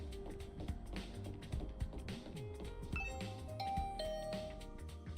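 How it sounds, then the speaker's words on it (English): A doorbell chimes with a few bright tones over busy background music in the video game The Hundred Line, followed by soft tapping. "I rang the She doorbell to like Tsubasa's literally room"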